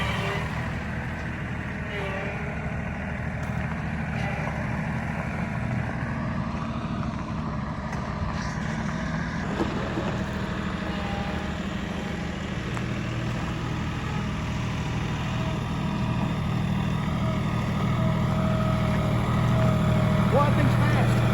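A tractor engine runs steadily and drives along with a continuous low rumble, close and loud throughout, with people talking over it.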